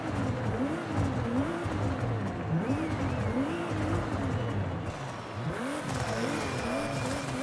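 A Toyota Supra's engine heard from inside the cabin, revving in repeated rising and falling surges over a steady loud drone, with one deeper blip near the end.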